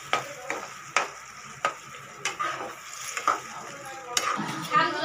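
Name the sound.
stirring biryani masala frying in oil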